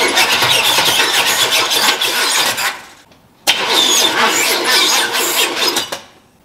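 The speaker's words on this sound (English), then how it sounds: "So it's cranking very, very slowly." A 1977 Chevy Nova small-block V8 cranks slowly and labors without catching, in two loud sustained bursts separated by a short pause, with no talking.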